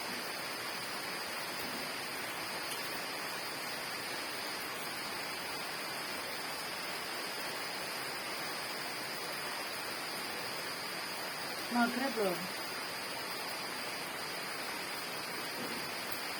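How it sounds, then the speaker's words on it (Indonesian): Light drizzle falls at dusk as a steady, faint hiss with no breaks, and a short voice cuts in briefly near the end. "Hujan rintik-rintik."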